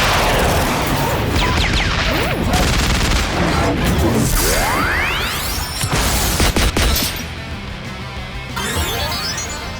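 A dense, loud barrage of rapid gunfire and explosive bursts from a machine gun attack in the video game Digimon Story: Time Stranger, with sweeping whooshes over the constant battle noise.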